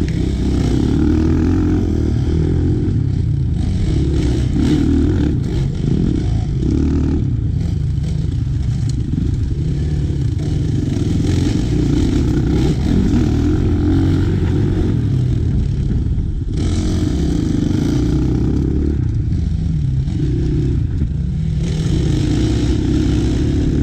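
Enduro motorcycle riding off-road, sliding and getting back on the throttle: a close, loud engine revs and drones continuously, with surges of acceleration and rattling clatter over about twenty seconds.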